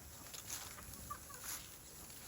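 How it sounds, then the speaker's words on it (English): An older rooster clucks softly on an animal sanctuary farm, a few faint, scattered low clucks over steady background hiss, with no voices. "You can tell it's an older rooster when snacks take priority over the ladies"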